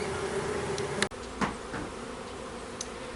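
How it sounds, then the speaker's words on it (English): Package honey bees swarm at a hive entrance with a steady, dense buzz that carries through the whole clip, and a few soft knocks and clicks sound close by. "Here you can see the bees are waggling their butts in the air"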